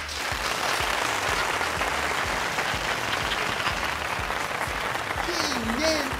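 Steady, dense clapping from a TV game show studio audience fills the whole stretch, loud and continuous, with a brief whistle-like tone near the end.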